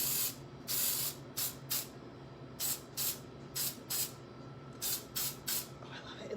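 Repeated short hissing bursts of a spray can in an irregular rhythm, close and fairly quiet, with brief pauses between sprays.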